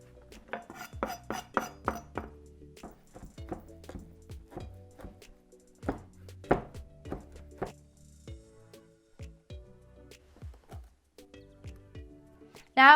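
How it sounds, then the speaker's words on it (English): Knife chopping dried raisins into small pieces on a board for an Uyghur walnut raisin cake, a run of quick close clicking taps in uneven bursts with pauses, plus light kitchen clatter. "cut them in small pieces."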